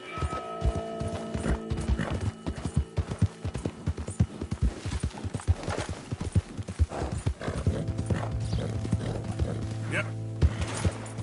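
Horse hooves clip-clop steadily while riding in the video game Red Dead Redemption 2, a close rhythmic trot with a whinny and other game sounds mixed in.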